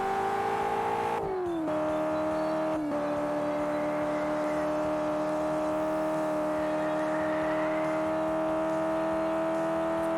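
A car drifting on a hill track in the racing game Drift Stage, with a steady engine drone and tyre whine held throughout. The engine pitch drops sharply twice, then runs evenly and close with no talking.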